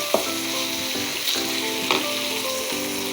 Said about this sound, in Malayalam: എന്നിട്ടിത് നമുക്ക് നന്നായിട്ടൊന്ന് ഇളക്കിയെടുക്കാം നന്നായി ഒന്ന് മൂത്ത് വരണം